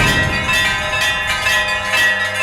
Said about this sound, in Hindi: मंदिर के प्रवेश द्वार पर बड़ी संख्या में घंटियां लटकी है।